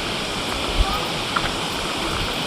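Cold spring water pouring steadily from pipes at Bungan-bungan, a dense, even rushing splash with a couple of faint knocks and no voices.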